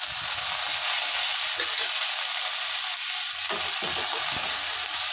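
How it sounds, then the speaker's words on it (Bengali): Cut potatoes go into a pan of well-fried onions for a moringa flower stir-fry, producing a loud, unbroken hissing sizzle with scattered scraping and stirring knocks near the end. "এবার আমি কেটে রাখা আলুগুলোকে দিয়ে"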